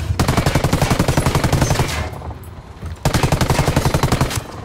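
Cartel troops open up with rapid automatic gunfire in Ghost Recon Wildlands, two long rattling bursts of fast, loud shots separated by a brief lull.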